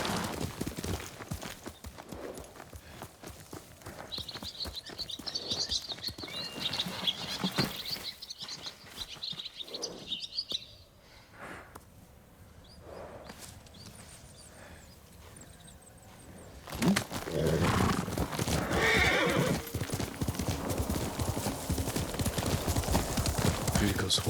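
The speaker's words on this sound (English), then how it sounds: "Yuriko's horse. She can't be far." A horse in the video game Ghost of Tsushima clip-clops along a path amid background ambience and birdsong, with a swell of louder noise in the second half.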